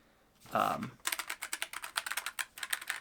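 Fingers type a quick run of crisp, close keystrokes on a low-profile wireless RGB ergonomic keyboard, following a brief muffled sound at the start.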